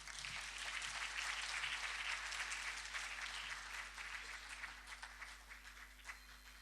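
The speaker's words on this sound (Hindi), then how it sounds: "आपकी तालियों का इंतज़ार है बस" Audience at a kathak dance performance applauding, a dense steady patter of clapping from a crowd that gradually thins toward the end, fairly faint and distant.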